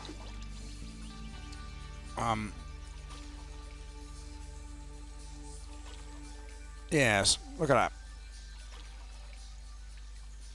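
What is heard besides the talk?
water lapping against river shore in Stardew Valley video game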